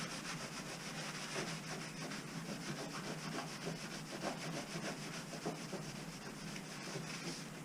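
A slightly abrasive dishcloth rubbed back and forth over a surface during a restoration, a soft continuous scrubbing hiss with a steady stroke rhythm, close but quiet, with no talk.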